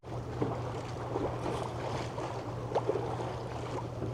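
A sailboat moving under sail through the San Juan Channel near Friday Harbor, a steady wash of water and wind against the hull with low engine-like hum, faint occasional creaks, no talking.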